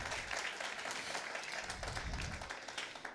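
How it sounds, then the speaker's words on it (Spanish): Sustained applause from a church congregation during a Sunday morning praise service, a dense, steady wash of many hands clapping together, heard at a moderate distance and without speech. "denle un aplauso al Señor en esta mañana de alabanza"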